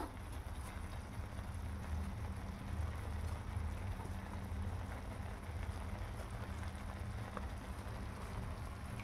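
Garlic paste and MDH dal makhani masala fry in hot oil, giving a continuous, even sizzle that holds at a constant level throughout, with no voices.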